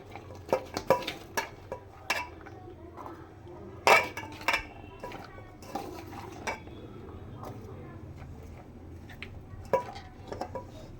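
Faint, scattered clinks and clatters of a pot and utensils sound at irregular intervals while large-cut mixed vegetables, including carrot, are steamed in a home kitchen.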